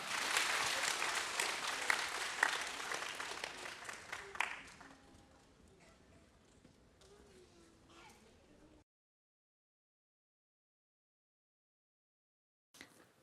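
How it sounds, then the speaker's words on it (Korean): A church congregation at an all-generations worship service applauds to welcome a speaker to the front, loud clapping for about four seconds that thins and fades into quiet room sound before cutting to silence. "큰 박수로 환영하겠습니다"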